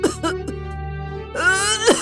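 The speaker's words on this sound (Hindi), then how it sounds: "इतना खांस क्यों रही हो?" A woman coughs in a domestic kitchen setting, a few rough, throaty bursts with throat-clearing between them, close and fairly loud over a low steady hum, with a sharper cough near the end.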